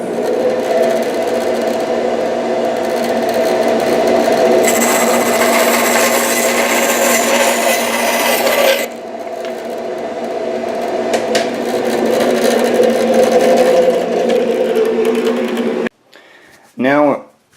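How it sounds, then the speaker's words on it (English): Power tool cutting a wooden pen blank to size, a steady loud whirring grind running for about sixteen seconds with a brief scraping burst at the end. "Let's cut our pin blank to size now."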